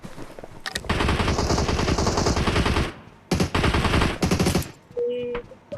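Rapid bursts of gunfire in a PUBG esports match, dense sustained volleys with two short breaks, loud and close, followed by a brief quieter tone near the end.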